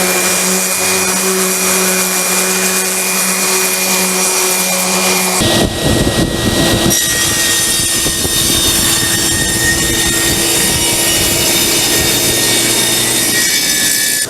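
A machine sands and flattens a wooden cutting board blank, producing a loud, steady motor whine and abrasive roar that shifts in tone partway through and keeps running without pause.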